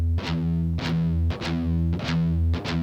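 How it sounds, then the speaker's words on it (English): A heavily distorted electric guitar chugs palm-muted pedal tones, a rapid repeating pattern of loud, thick low notes broken by short picked accents at an even rhythm. "Phrase 20 is the double time verse, which is very similar. Play the pedal tones"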